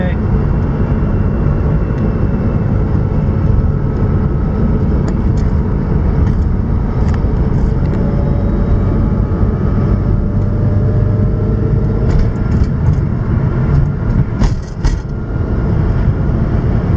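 Mitsubishi Galant VR4 fitted with a Black Widow catback exhaust cruising on a freeway at about 70 mph, a steady low engine and exhaust drone blended with road and wind noise, heard from inside the car.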